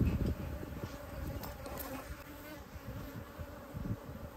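Wild Texas bees buzz continuously around a hive, a dense droning hum with individual insects passing close, fairly quiet and with no speech.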